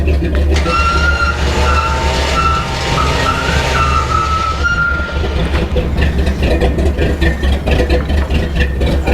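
A 1972 GMC 3500 wrecker truck engine idles steadily and loudly up close, a continuous low rumble with a rough, uneven mechanical texture running the whole time.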